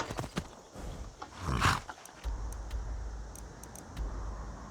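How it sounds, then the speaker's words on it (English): Horse galloping in the video game Skyrim, a steady drum of hoofbeats with rattling gear, moderately loud, running alone with no talk. "Alright, this is my horse good."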